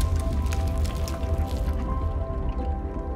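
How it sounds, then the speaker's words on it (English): Glacier ice floating in Arctic sea water, heard as a dense, continuous crackle of small pops and ticks over a steady low rumble, close and fairly even throughout. "Sound of glacier ice in the water,"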